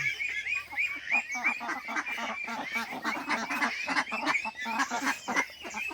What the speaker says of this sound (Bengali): হাঁসগুলো সব পাক পাক পাক পাক করে যাচ্ছে